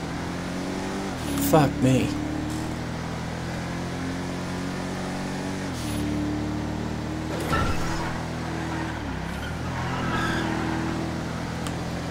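A Dodge Charger Hellcat launches and accelerates in GTA V: a loud engine revs and climbs in pitch in repeated surges, with a voice talking over it.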